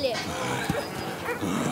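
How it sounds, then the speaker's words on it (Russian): A dog barks and yips in short bursts amid agitated shouting from men, the barking mixed in and partly masked by the voices. "Пусть не гавкает"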